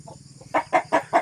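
Farm chickens cluck close by, a soft murmur giving way to four loud, evenly spaced clucks in quick succession.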